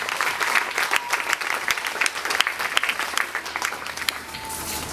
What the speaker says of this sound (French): Applaudissons pour le parents.